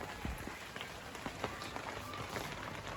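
Rain falls on surfaces in a village, a continuous hiss of drops with scattered sharper taps and splashes close by.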